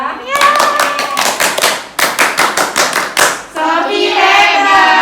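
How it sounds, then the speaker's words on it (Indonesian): Group of people clapping hands together in a rhythmic pattern during a group activity therapy session, loud and close, with a voice chanting over the claps and a burst of speech at the end. "Kita kasih tepuk hebat dulu untuk Mbak Sofia ya."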